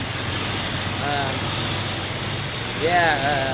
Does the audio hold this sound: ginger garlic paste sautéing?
no